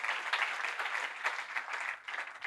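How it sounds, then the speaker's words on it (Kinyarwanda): Church congregation at a Sunday service applauding, a dense wash of many hands clapping at once, steady and fairly close throughout the short burst. "Mumukomera amashyi uyu mukozi w'Imana"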